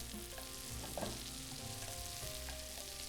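Scallops searing in a hot pan for a crispy side, giving a soft, even sizzle and hiss that is faint and continuous, with a low hum beneath.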